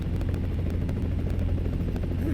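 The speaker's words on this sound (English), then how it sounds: "There's a damn helicopter." A helicopter in the American Truck Simulator video game thumps with a steady, rapid rotor chop over a low engine rumble, moderately loud and continuous.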